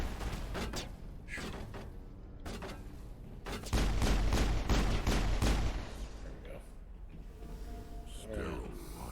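Rapid bursts of gunfire from the video game Mass Effect, dense and loud in the middle, while the player is being shot, with people talking over the shooting.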